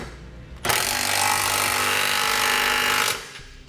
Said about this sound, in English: Now we'll use a 3/4 inch socket to tighten our nuts up.